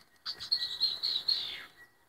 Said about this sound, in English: I think that's a bird.